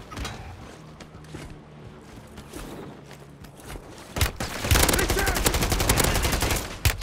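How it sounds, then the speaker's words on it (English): Video game firefight with grenade launchers and automatic gunfire, scattered shots at first and then a dense, loud burst of rapid fire in the final seconds. "Still shooting grenade launchers"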